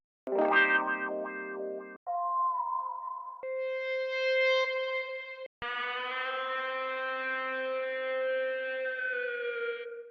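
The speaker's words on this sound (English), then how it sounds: "I added a lot of like accents and ear candy to the melody" A sequence of synthesized melody accents, each processed with distortion, chorus and echo, shifting pitch and timbre in separate sustained phrases with short gaps between, in an FL Studio beat.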